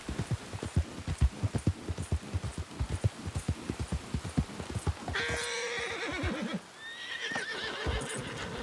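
A horse in Red Dead Redemption 2 trots with a steady, close clip-clop of hooves, then stops and whinnies loudly, followed by a second shorter neigh.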